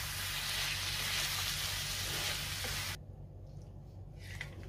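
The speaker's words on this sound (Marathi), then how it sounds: "गॅस बंद करते आणि सगळं व्यवस्थित मिक्स करून घेते" Tawa chicken masala is stirred in a pan: a dense, loud sizzle for a few seconds, then it drops abruptly to a quieter, sparse crackle with faint clinks.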